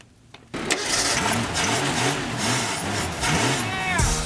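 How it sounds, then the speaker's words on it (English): A car engine cranks over and over with a steady rhythmic churn for several seconds, loud and close, while the starter struggles before it finally turns over. "we tried to get the car started while we were out there, and it finally turned over"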